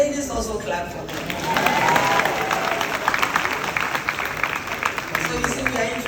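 Audience applause in a hall as women clap, a steady wash of many hands with some crowd murmur, starting after a brief spoken bit and holding fairly loud throughout.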